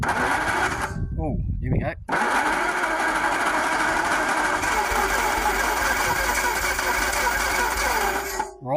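Daimler 250 V8 starter cranking as the engine tries to fire, a loud rapid churning that stops briefly and then resumes for a long continuous stretch, with a voice speaking briefly near the start.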